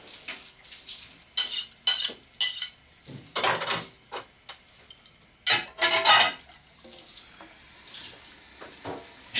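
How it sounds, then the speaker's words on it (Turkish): Dishes are washed, with clattering plates and cutlery and running water in irregular bursts, close and fairly loud, against quiet pauses in between. "Oğlum Romeo, o nasıl bulaşık yıkamak lan?"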